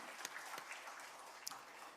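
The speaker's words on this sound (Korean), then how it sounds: "우리 영광의 박수 한번 올려드리겠습니다" Church congregation clapping during a Korean Easter worship service, a soft, distant, steady patter of applause with a few sharper claps standing out.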